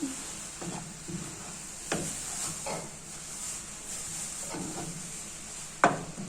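A spoon or spatula stirring minced meat filling with herbs in a pan, a few soft scraping strokes over a quiet hiss, with one sharper clack near the end.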